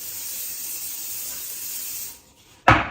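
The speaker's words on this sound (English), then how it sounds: "I'm going to spray the crown and then go through the lengths a little bit." Hairspray hisses steadily onto the crown of someone's hair for about two seconds, stops briefly, then a sharp, loud fresh burst of spray starts up close.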